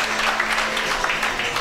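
A crowd at a women's junior 10m air rifle shooting final cheers and applauses in a steady, moderately loud wash of clapping and voices from a distance.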